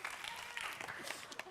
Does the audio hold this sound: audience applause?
yes